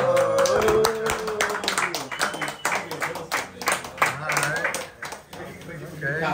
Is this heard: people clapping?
yes